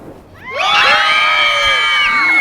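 An audience of children at a magic show birthday party shrieks as loud as they can, a sudden piercing chorus that swells in after a brief quiet and holds at full volume to the end.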